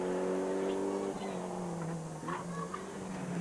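Rally car engine revving steadily as it slides through a corner on a tarmac stage of the 1997 Jersey Rally, a continuous harmonic drone with a faint commentary voice underneath.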